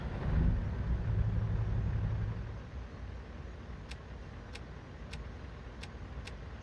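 A truck engine in the video game American Truck Simulator starts with a loud low rumble for about two and a half seconds, then settles to a quieter steady idle with a few faint, sharp ticks.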